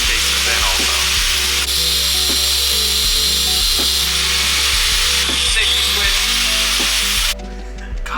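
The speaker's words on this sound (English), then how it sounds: "giving it the old angle grinder special, and we're gonna notch it" An angle grinder notches the shaft of a car's steering rack on a Scion FR-S build, making a continuous loud, harsh grinding whine close by that runs without a break before cutting off near the end.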